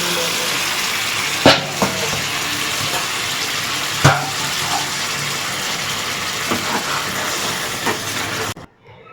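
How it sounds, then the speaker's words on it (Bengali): Hot water poured into a pot of spicy restaurant-style crab curry gives a steady hiss and wash of liquid with a few sharp clinks. It stops abruptly just before the end. "এখানে জলটা গরম করেছিলাম সেই জলটা আমি দিয়ে দিচ্ছি"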